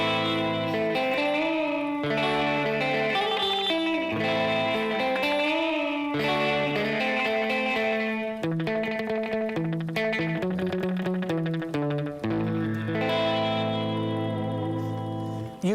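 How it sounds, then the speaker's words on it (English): An electric guitar runs through a delay unit set to an echo preset, with distortion adding grit. Loud sustained chords and melodic phrases ring on continuously, each trailed by repeating echoes, with no talking. "You can maybe try different presets. This is Echo."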